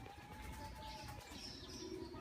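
A flock of pigeons flaps up into the air, a soft fluttering of wings with faint cooing and chirps at moderate distance outdoors.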